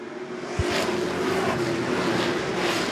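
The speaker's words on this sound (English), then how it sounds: "Green is out, and we are racing." A pack of race cars roars away together as the green flag drops at Lee USA Speedway, a sudden dense engine surge that holds loud and steady, with crowd and track noise blended in.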